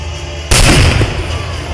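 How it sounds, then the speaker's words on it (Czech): A simulated atomic bomb blast at the Brno reservoir, set off as the climax of a countdown: a sudden loud boom that hits with a heavy low rumble and then rolls on as a sustained, gradually settling roar. "výbuch atomové bomby, který ukončil druhou světovou válku"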